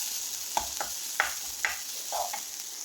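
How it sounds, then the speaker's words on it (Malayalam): Green chillies, turmeric, salt and curry leaves being stirred in a pan for a moong dal curry, with a handful of soft spoon scrapes and light sizzles at a low level. "പിന്നെ ഒരു കറിവേപ്പില അതുകൂടി ഇട്ട് കൊടുത്തൊന്ന് ഇളക്കി കൊടുക്കാം"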